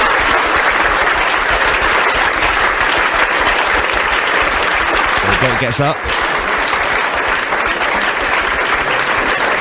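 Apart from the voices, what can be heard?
audience applause for an award winner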